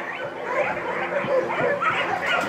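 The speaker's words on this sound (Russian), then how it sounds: "Приехало еще 15 наших собак." Fifteen dogs newly arrived at a shelter-like yard bark, yip and whimper together in a dense, continuous chorus close by.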